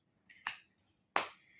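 Two sharp, close hand claps ring out about three quarters of a second apart in a quiet room at a home devotional singing session.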